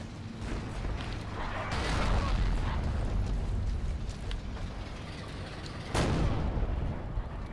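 Artillery fire in Forgotten Hope 2 multiplayer gameplay: a sustained, heavy rumble of distant shelling swells through the middle, then a sharp, loud blast lands near the end.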